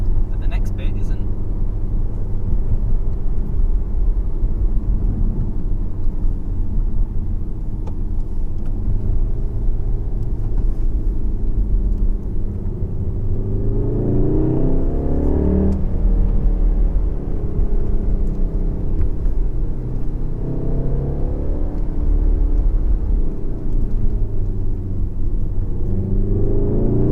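A VW Golf R on Michelin Pilot Sport 4 tyres drives over a bumpy road, its steady loud cabin rumble and tyre roar continuous throughout, with uneven thumps and surges as the surface changes, under someone talking.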